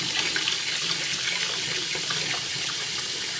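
Water rushes steadily from a tap while a crusty toaster oven is being deep-cleaned, making a continuous splashing hiss from start to finish with no talking.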